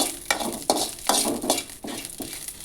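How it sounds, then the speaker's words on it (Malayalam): Dried red chillies fry in coconut oil in a pan for chammanthi, a close, constant sizzle broken by rhythmic scraping stirs about every half second. "എന്നിട്ട് ഉണക്കമുളക് ഇട്ടിട്ട് നന്നായിട്ടൊന്ന് വറുത്തെടുക്കുക."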